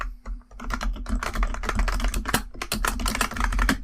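Rapid computer keyboard typing, a steady run of crisp close keystrokes entering a Linux terminal command in Kali Linux, with no talking.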